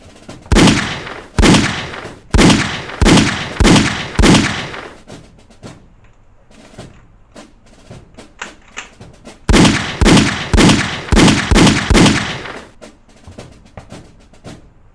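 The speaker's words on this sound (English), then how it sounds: "We will now demonstrate the firepower of our service pistol." A service pistol fired in two quick bursts of about five sharp, loud shots each, separated by a quieter stretch holding faint scattered taps.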